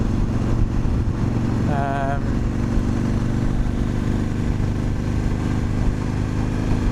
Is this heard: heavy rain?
no